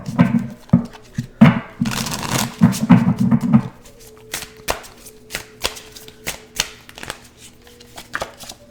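Charm cards being shuffled close up: a few seconds of dense riffling and flicking, then scattered soft taps and slaps as the cards settle.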